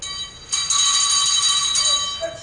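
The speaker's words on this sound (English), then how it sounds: "Chris, shake the bell, mate." A hand bell shaken in the back of a room at a live business talk, ringing steadily for about two seconds with bright sustained metallic tones, loud and alone with no talk over it.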